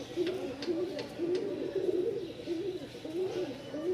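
A white pigeon with feathered feet, one of a breeding pair, gives a repeated rhythmic breeding coo, fairly close and steady throughout, against a low background hum.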